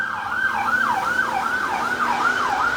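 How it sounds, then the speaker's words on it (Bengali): A wailing ambulance siren rising and falling in a steady repeating cycle as it passes, loud and continuous over faint traffic noise, in Spain. "অ্যাম্বুলেন্স যাচ্ছিল"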